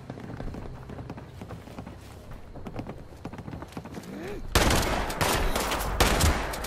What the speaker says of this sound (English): They shoot me. They shoot me.